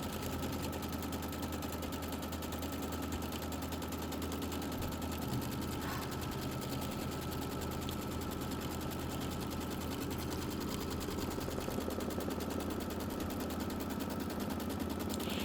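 An embroidery sewing machine stitching a Kimberbell quilt block produces a steady, close mechanical whir and rapid needle rattle that runs without pause for the whole stretch.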